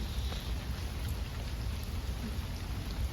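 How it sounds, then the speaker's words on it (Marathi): Steady monsoon rain pours down in a dense, even hiss at a temple on Ashadhi Ekadashi, heavy and close, continuing without a break and with no voices. "पाऊस येतोय"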